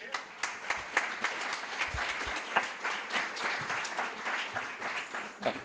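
An audience at a superintendents' event gives a sustained round of applause. Many hands clap in a dense, steady wash, fairly distant and even in loudness throughout.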